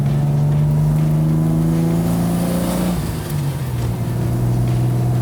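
A Lancia Aurelia with its early V6 engine drives a winding road, the engine note droning steadily from inside the car, then dropping in pitch as it shifts or eases off the throttle.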